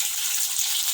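Bitter gourd frying in oil with salt and garlic, a steady bright sizzle with fine crackling, close and continuous with no talk.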